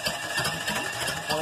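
A Chevy 305 V8 being turned over by the starter: a steady, rough mechanical churn with faint rhythmic low pulses, close and moderately loud, with no talking.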